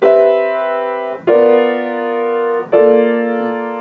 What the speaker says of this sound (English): I could put the 9th in there instead, so but that would sound like this.